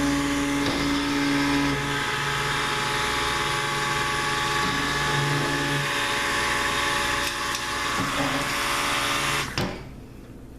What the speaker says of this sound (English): I like to definitely have my stick blender on it when I'm putting it in to already made lotion